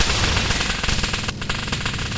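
Rapid, dense automatic gunfire crackles without pause during a video game match, loud and close, with heavy bursts running through the whole short stretch.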